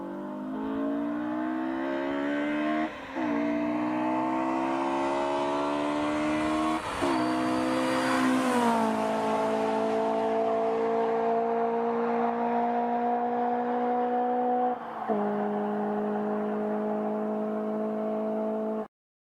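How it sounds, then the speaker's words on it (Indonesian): A car speeding and accelerating hard, its engine note climbing in pitch and dropping at several gear shifts, loud and close with no talking. "Pasti yang terbayang pada bayangan kalian adalah suatu mobil yang bergerak sangat cepat ya."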